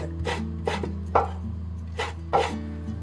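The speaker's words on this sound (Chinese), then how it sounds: "给它改刀切成这种细一点的丝。" A knife cuts a small piece of skinned, fatty pork belly into thin strips on a board, with five distinct chopping strokes spaced about half a second apart over a steady low hum, and no one speaking.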